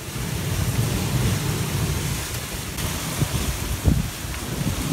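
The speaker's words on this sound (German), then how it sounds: "Der Wind nimmt stetig zu" Steady, loud roaring wind at sea aboard a sailing yacht, with rushing water noise and buffeting against the microphone, no voices.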